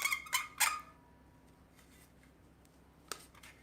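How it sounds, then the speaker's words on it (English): A few quick scissor-like snips as the tip of a tube nozzle is cut down for a bushing repair job, close and crisp, followed by a quiet pause and one more faint click. "when you're going to cut the tip, you got to do it as, you want this to be as thin as possible"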